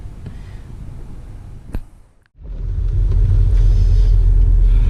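A 1986 Toyota MR2 Supercharger drives on a European road trip, its low cabin rumble briefly cut off after a sharp click, then returning louder and steadier as the car gets under way.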